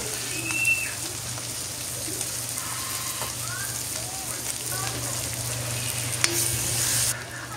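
Garlic fries in a pan for pork steaks, a steady close sizzle with occasional light stirring clinks and a low background hum throughout.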